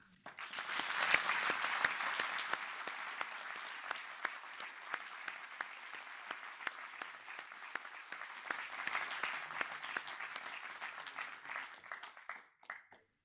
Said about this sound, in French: j'aimerais bien que vous les applaudissiez